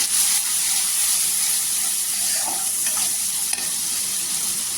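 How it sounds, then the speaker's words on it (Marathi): Masala with turmeric powder sizzles and fries in oil for a fish curry while a spoon stirs it, a steady close hiss with faint scraping strokes and no talking. "आता मसाला आहे ना पूर्णपणे एकजीव करून घ्यायचं"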